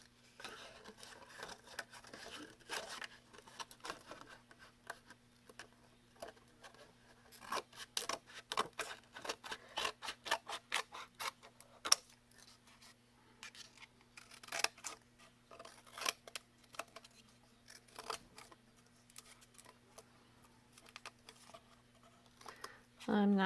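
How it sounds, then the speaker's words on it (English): Scissors snip and cut out craft pieces for a love sign, with rapid irregular crunchy snips that come and go in bursts at close range and a faint steady hum underneath. "I'm concentrating to get my pieces cut away with my scissors that don't want to get in there."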